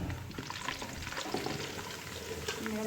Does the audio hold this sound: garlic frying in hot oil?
yes